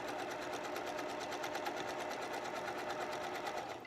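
A sewing machine runs in one steady, fast burst, stitching a facing around a curve on a little black dress. The stitching is close and continuous with no talk over it.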